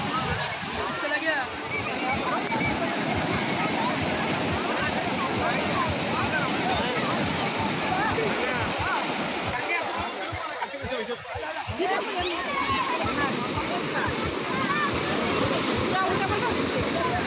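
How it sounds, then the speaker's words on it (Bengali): Ocean waves on the beach at Puri in the evening roar as a continuous dense wash with surging breakers, loud and steady, with wind over the sand. "পুরীর সমুদ্রের ঢেউ।"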